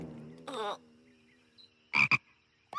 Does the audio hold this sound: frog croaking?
yes